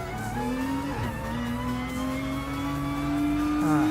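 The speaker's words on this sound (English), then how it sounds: "I have traction control on, I have ABS on, and it still spins it out." A Nissan Concept 2020 Vision Gran Turismo race car in Gran Turismo Sport wails with a loud, steady engine note that rises and dips as it loses traction and spins out, with faint tire noise underneath.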